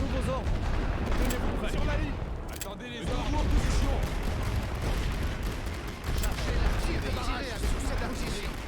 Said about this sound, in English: they are hitting me with rifle fire